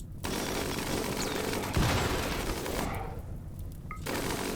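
Rapid bursts of gunfire in a Rimworld battle, dense and continuous crackling shots with a heavier thump midway, steady and fairly loud throughout.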